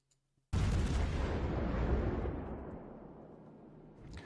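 A single huge boom from battleship guns in a naval video game, erupting after a brief hush and rolling on as a long, slowly fading roar.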